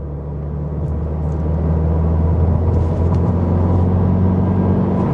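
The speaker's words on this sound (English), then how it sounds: "while this particular generation you don't get the Boxer rumble, you still get a satisfying sound" A 2024 Subaru WRX base model engine droning steadily while driving, a low continuous rumble and hum heard from inside the car, building slightly in loudness, with no one talking.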